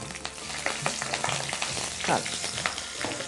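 Asafoetida and green chilli pieces crackle and sizzle in hot oil, sharp pops scattered over a steady frying hiss, close up, with faint stirring sounds.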